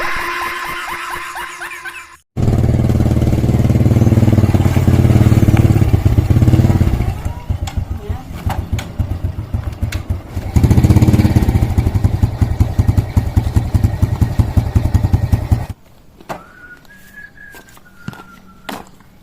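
A motorcycle engine runs loud and close in a Sundanese comedy street scene, rumbling steadily for most of the stretch before cutting out, after which a faint whistle-like tone lingers.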